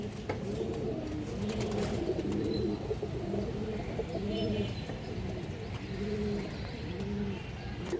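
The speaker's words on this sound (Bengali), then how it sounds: "এগুলো দর্শক লং রোডের কবুতর ইনশাআল্লাহ" Silver khaki long-distance racing pigeons coo steadily in overlapping, rhythmic phrases, close by, with faint chirps mixed in and no talking.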